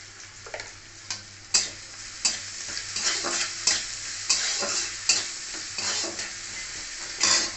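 Onions, salt and spices fry in a pan for a jute leaf curry, a continuous sizzle broken by repeated scraping strokes of a spatula against the pan at a steady, unhurried rhythm.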